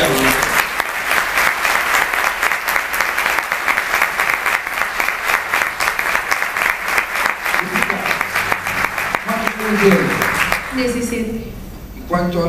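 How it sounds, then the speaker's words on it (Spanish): Loud, sustained audience applause for a young singer at a performance in Veracruz, dense clapping throughout, with voices and talk emerging as it dies down at the end. "ahora te van a aplaudir de verdad"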